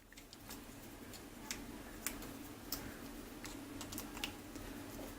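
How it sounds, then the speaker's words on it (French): An Allen key on the screws around the turret of a Vortex Razor HD Gen1 5-20x50 riflescope makes faint, sparse metallic ticks at irregular intervals over a quiet hiss. "à l'aide de ma clé Allen, je vais dévisser très légèrement les 3 vis qui se situent autour de la tourelle"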